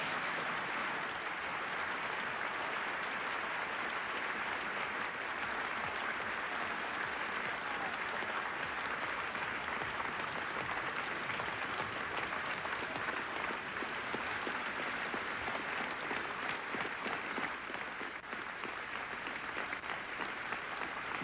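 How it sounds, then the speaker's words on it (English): An audience at the Union rises to a standing ovation after James Baldwin's speech: sustained, dense applause of many hands clapping at once, steady and even throughout, with no voices above it. "the whole of the Union standing and applauding this magnificent speech of James Baldwin"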